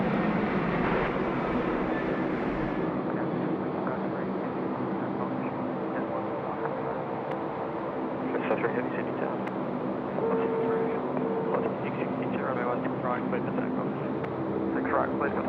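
A Velocity Boeing 737-800 airliner rolls for takeoff on runway 16 right at night, a broad steady engine roar heard at a distance throughout.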